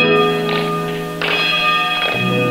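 Church bells ring with sustained, layered metallic tones that swell and overlap, fairly loud and close, with no voices, in Langgur, Southeast Maluku, Indonesia.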